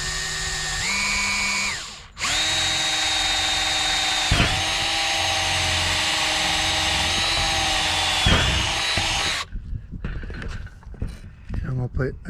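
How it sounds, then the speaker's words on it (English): A power drill bores a hole for a homemade fishing pole holder, its loud, steady whine running for about seven seconds with a brief dip midway before it stops and gives way to scattered handling noises. "So I'll drill a hole right here, put this one through."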